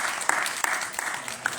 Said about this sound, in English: Can you guys give yourselves a round of applause for being here?